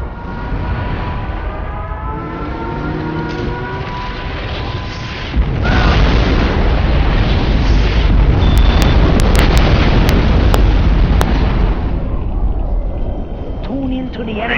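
A nuclear missile launch and detonation in C&C Generals Shockwave rumbles from a droning start into a loud, deep, sustained boom with crackling debris, fading slightly at the end.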